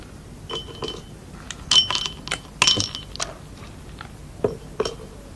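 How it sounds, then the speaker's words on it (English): Ice cubes dropped into drinking glasses, several bright glassy clinks and knocks in small clusters, close and clear with quiet gaps between. "Put a couple ice cubes in those glasses."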